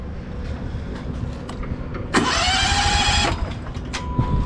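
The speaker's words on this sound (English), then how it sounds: "that's how you start the engine" A gas engine on a snow-moving machine cranks and fires up in a loud burst of about a second, against steady background rumble, with no talking.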